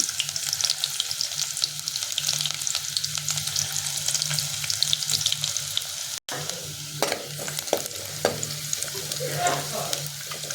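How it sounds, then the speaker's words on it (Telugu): Onions sizzle and crackle steadily in hot oil, a continuous close frying hiss with occasional stirring scrapes, no voices. "ఉల్లిగడ్డ తాలింపు చేసిన"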